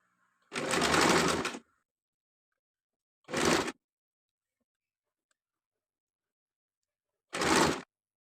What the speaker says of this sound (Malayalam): രണ്ട് വശവും നമുക്ക് ഇതുപോലെ തന്നെ സ്റ്റിച്ച് ചെയ്തെടുക്കാം